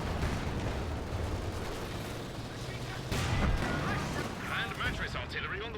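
Land Mattress rocket artillery fire in Company of Heroes 2 during a 4v4 match: a dense, continuous rumble of booming barrages and blasts, growing heavier midway, with players commentating over it.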